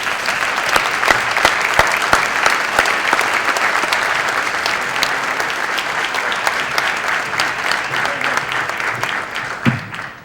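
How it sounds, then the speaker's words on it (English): Guests at a Black History luncheon give a round of applause, dense sustained clapping with sharp individual claps standing out, lasting about ten seconds before tapering off near the end. "Let's give him a round of applause."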